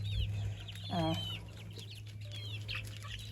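Young chickens cluck steadily close by, a run of chirpy calls with one louder rising squawk, over a constant low mechanical hum.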